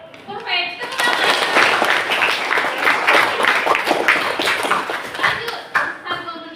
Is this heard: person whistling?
no